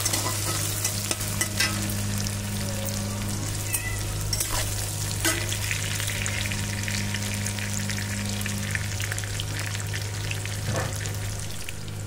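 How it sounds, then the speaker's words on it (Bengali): Chopped onions fry in oil in a pan for a dried-fish curry, giving a steady close sizzle with scraping stir strokes, over a low constant hum; a cat meows faintly now and then. "পেঁয়াজটা একটু লাল করে ভেজে নেব।"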